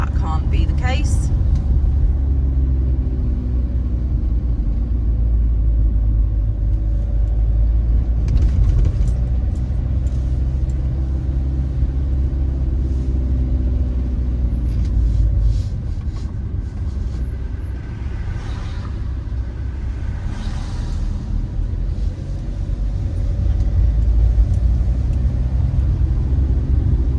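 A car's interior on the drive home from work, filled with a loud, continuous low engine and road rumble for the whole ride, with a voice heard at times over it.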